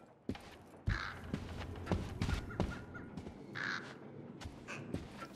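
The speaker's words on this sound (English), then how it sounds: "Oh, it's a bird." A crow caws in the stealth game Thief: a few harsh, rasping calls spread across several seconds, mid-distance, over a busy bed of ambient game noise with soft footstep-like thuds.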